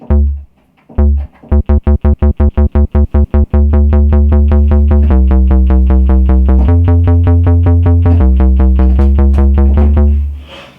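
A deep Moog Matriarch synth bass plays a repeated pattern, short staccato hits giving way to steady pulsing notes, each with a filtered attack, loud and alone.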